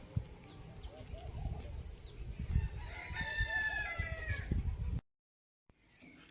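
Chickens cluck and chirp in a rural yard with scattered grass and rubbish. Partway through, a rooster lets out a clear, drawn-out crow over a rustling, busy background, and the sound then cuts to near silence.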